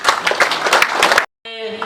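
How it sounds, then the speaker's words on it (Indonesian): Dense, loud clapping from an audience at a priest's silver jubilee celebration in Ritaebang, Solor, fills the first second before cutting abruptly to a brief silence and then steady sustained tones. "Tepuk tangan untuk"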